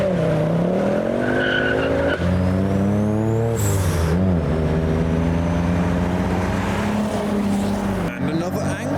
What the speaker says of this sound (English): There is the first Escort Cosworth in Imperial Blue.